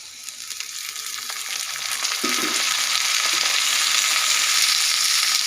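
Onion, cabbage, carrot and potato fry in a pan with a broad hiss that swells and holds loud and steady, one stirring clank breaking in partway through.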